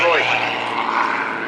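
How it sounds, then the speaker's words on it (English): A propeller aerobatic aeroplane flown in a display at a powerboat event passes overhead, its engine exhaust note a steady, fairly loud drone with a shifting pitch that slides downward early on. "we can hear the different change in the exhaust note of this aeroplane."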